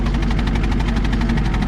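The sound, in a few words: excavator diesel engine idling through muffler, misfiring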